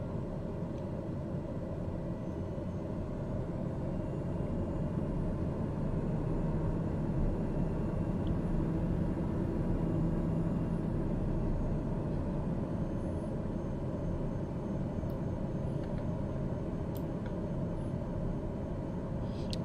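Steady, loud airliner cabin and engine drone from Microsoft Flight Simulator as the plane flies its approach over West Africa with the first flaps set, holding an even, unbroken level throughout.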